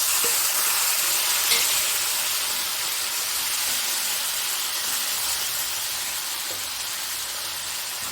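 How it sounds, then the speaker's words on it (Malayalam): Steady, loud sizzle and hiss of boiled tapioca frying in a pan with onion and chili powder, a continuous crackling wash with faint stirring clicks and no talk. "ഇതിലേക്ക് നമുക്ക് ഈ കൊള്ളി വേവിച്ചത് ഇട്ട് കൊടുക്കാം"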